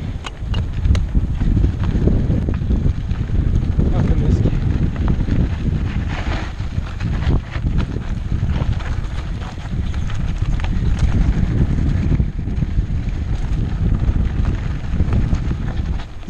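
Strong wind batters the microphone on a mountain bike trail, the Bonneville Shoreline Trail near Farmington Pond, Utah, in a continuous low roar, with rough crackling gusts and occasional thumps, steady and close throughout.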